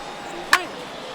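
Bat meets ball with a single sharp crack in a Marlins at Rays baseball video game on PS5 Pro, a drive pulled foul down the left field line, standing out briefly over steady crowd ambience.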